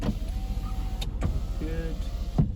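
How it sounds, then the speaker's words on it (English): Electric windows on a 2014 Ford Transit Custom LWB van whir as they move, short motor hums set against faint cabin noise and a few clicks. "Electric windows,"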